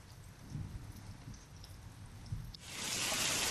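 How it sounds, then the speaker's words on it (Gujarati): Low rumbles of thunder and a muffled patter give way to a sudden, loud hiss of heavy rain pouring down steadily. "ગાજવીજ સાથે ધોધમાર વરસાદ પડ્યો"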